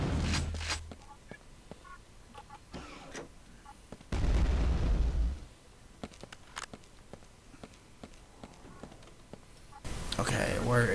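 Shotgun blasts from the Quake 2 video game, heavy low booms with a long dense burst around the middle and another at the end, separated by quieter game ambience and sharp clicks.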